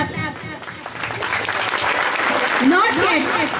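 Audience applause at an annual school prize distribution ceremony, loud dense clapping with voices and shouts mixed in throughout.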